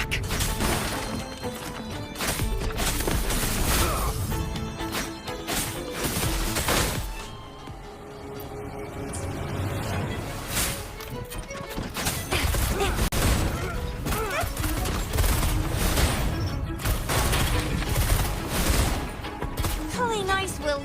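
Gunfire and combat impacts in the video game Wuthering Waves, dense bursts of loud shots and crashes nearly throughout, broken by a brief lull partway, with voices at times over the action.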